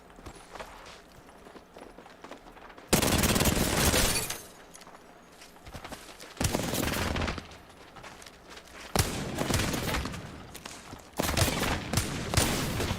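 A video game gun fires in four loud bursts of rapid shots with quieter gaps between them. Each volley lasts a second or two and is heard alone and up close.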